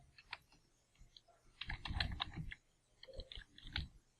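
A computer keyboard is used to type an address, producing quiet, close clusters of keystrokes in short bursts separated by brief pauses.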